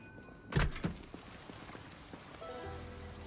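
Rainstorm in the video game Project Zomboid, a soft steady patter of rain under a couple of dull thunks and a faint rising hum, quiet and continuous without speech.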